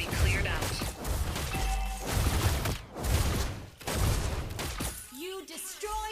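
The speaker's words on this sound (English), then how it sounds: "You destroy the turret." Turret being destroyed in the Mobile Legends (MLBB) video game, a dense run of crashing, shattering impacts and bursts, loud and continuous, with game voice lines and chimes near the end.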